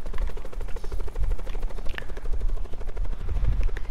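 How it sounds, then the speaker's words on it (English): Helicopter in the video game Call of Duty Black Ops 4, a steady rhythmic rotor thump held close and loud throughout. "The helicopter's not at Nuketown."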